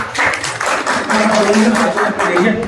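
A gathering at a business-plan presentation breaks into lively applause, a dense, steady clatter of clapping close by, with voices and some laughter mixed in throughout.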